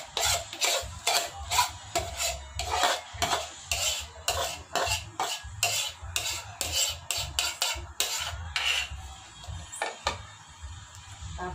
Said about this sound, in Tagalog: Mix na po natin yun ang maganda.